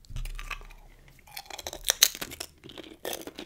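Crunchy sweet chili rye chips are bitten and chewed up close, giving sharp crisp crunches followed by quieter munching over a few seconds, with no talking.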